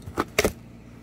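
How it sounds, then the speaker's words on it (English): Keys jangle and scrape against packing tape on a shipping box for LiFePO4 battery modules, two short bursts close by, the second louder and doubled, then quiet. "I've just been using a set of keys to open the tape"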